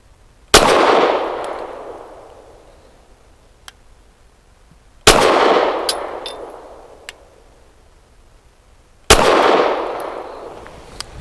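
Three loud pistol shots from a Walther PDP Match steel-frame handgun firing 147-grain HST rounds, spaced about four seconds apart, each a sharp crack with a long echoing decay, outdoors at a range.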